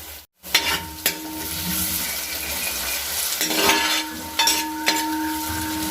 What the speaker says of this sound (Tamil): இப்போ வெங்காயம் வந்து இந்த அளவுக்கு ஃப்ரை ஆகிருக்குது.